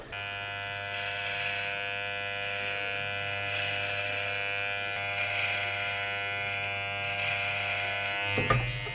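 An electric razor shaves hair on a head, giving a steady, close mechanical buzz that runs without a break for about nine seconds and then briefly shifts and rattles near the end.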